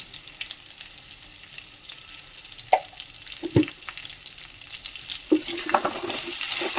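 Potatoes cooking in a pan with ginger paste and salt, a soft frying sizzle under scattered scrapes and clinks of a spoon stirring, the stirring growing busier toward the end.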